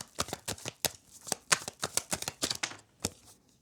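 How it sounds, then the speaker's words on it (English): A tarot card deck is shuffled up close, a rapid series of crisp riffling bursts in an uneven rhythm, with no talking. "I don't know why I started shuffling the deck again"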